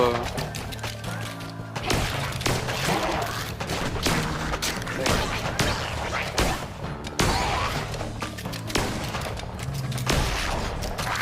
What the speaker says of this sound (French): on les défonce là avec notre fusil à pompe